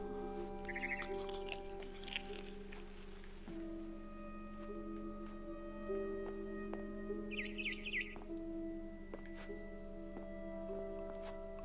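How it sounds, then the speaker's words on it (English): A barn swallow chirps outside a window in a video game, faint short bird calls in bursts over a quiet ambient bed with soft patter and hum. "Then I heard chirping outside my window. It was a barn swallow going back to her nest."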